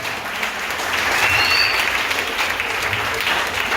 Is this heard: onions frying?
no